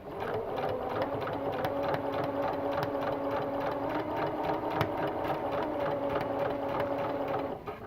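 A sewing machine runs steadily on a longer stitch length while piecing hexagon quilt patches, giving a continuous, even whirring hum with a regular rhythmic needle beat throughout.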